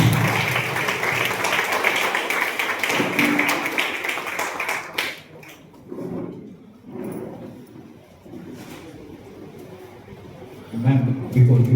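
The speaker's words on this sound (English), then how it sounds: "a big round of applause to welcome ma'am" Applause from a seminar audience welcoming a speaker, dense clapping for about five seconds before thinning out, followed by scattered murmurs and a brief burst near the end.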